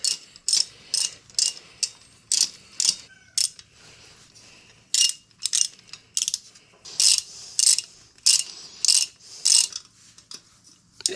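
A hand ratchet clicks in repeated short bursts while snugging bolts on a Harley-Davidson motorcycle, each burst of sharp metallic clicks separated by brief pauses, close up with no talking.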